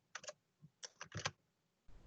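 Quick bursts of keystrokes on a computer keyboard, clustered in short groups with pauses between, close and fairly quiet, with a faint thump at the end.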